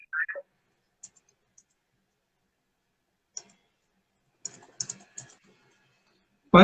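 Scattered keystrokes on a computer keyboard, a few isolated taps followed by a short burst of quick typing, faint and close with no talking.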